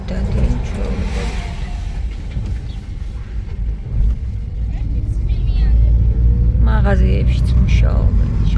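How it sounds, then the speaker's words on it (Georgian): Street traffic with buses and cars passing, a low rumbling engine drone that swells louder in the second half, heard under a person's talk. "ავტობუსები დადიან ჩვეულებრივ."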